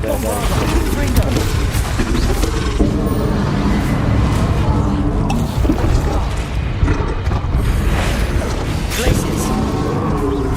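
Confringo spell explosions in a Hogwarts Legacy fight, loud booming blasts layered over constant combat noise and a voice shouting throughout.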